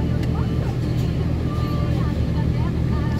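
A truck maneuvering on a road in Germany, with its engine rumbling steadily and close by throughout, mixed with traffic noise under occasional speech.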